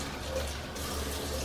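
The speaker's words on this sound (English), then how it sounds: "I am gonna add just a little water." A little water poured into a pan of cream chicken pieces to create steam, a soft continuous trickling wash heard close and fairly quiet.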